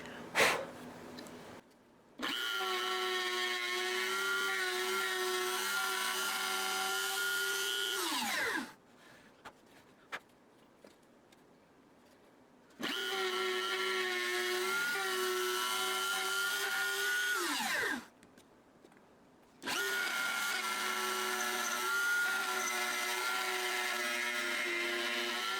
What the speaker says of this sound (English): by just moving the Dremel tool in. And then running it a few times.